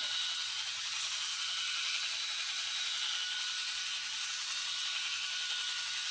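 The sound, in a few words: Bald Eagle Smart electric head shaver running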